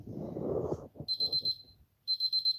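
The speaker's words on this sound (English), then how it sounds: "And there's the timer" A kitchen timer in a home kitchen with a wood stove rings in two bursts of rapid high electronic beeps, each a fast run of repeated tones, following a short stretch of indistinct low rumble and clatter.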